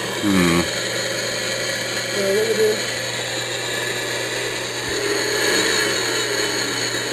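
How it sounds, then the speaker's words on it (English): A snowblower engine runs with a steady, buzzing drone at a constant pitch, loud and close, while people talk briefly over it. "Snowblower?"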